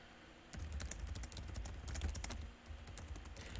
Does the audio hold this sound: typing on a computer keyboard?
yes